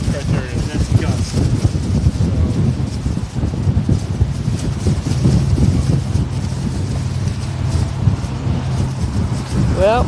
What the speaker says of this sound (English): The wind's picking up, Marley's.